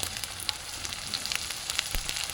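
Ginger paste, garlic paste and ground turmeric sizzle in a hot pan, a close, steady crackling fry with small pops and faint stirring throughout the short stretch.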